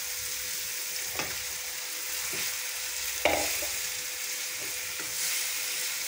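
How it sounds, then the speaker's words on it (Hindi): Chicken frying with masala in a pan, a soft steady sizzle close by, broken by a few scrapes and clanks of a spoon stirring against the pan, the loudest near the middle. "इसको इसके साथ मसाले के साथ भूनते हैं अच्छी तरह से"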